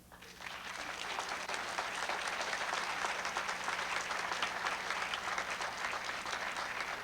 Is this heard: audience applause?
yes